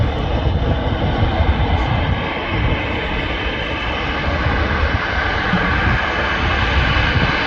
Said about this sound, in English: There's Ryanair landing on 23 right, and there's a Ryanair leaving on 23 left.